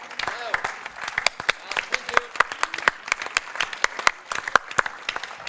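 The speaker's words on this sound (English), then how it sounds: "I would ask a big applause to Mark Hans Emanuel" An audience at a medical symposium bursts into sustained applause, dense rapid clapping from many hands filling the room at a lively, even level for several seconds.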